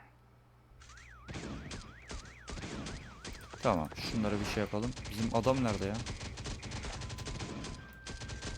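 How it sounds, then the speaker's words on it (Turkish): A car alarm in the Last Day on Earth survival game wails in a repeating rising-falling pattern early on, while gunfire, game effects and someone talking in Turkish pile on top of it. "Biri alarm öttürüyor."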